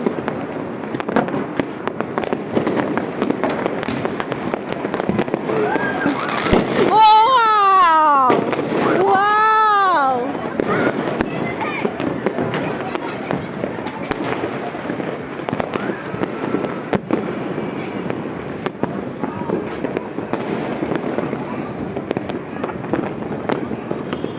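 New Year's Eve fireworks crackle and pop continuously all around across Dhaka, a dense distant barrage of bangs, with a shrill whistling rocket or crying-like wail rising briefly in the middle.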